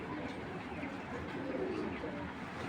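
Soft, low cooing of racing pigeons at a pigeon farm rises and falls against a murky background hum, fairly faint and continuous.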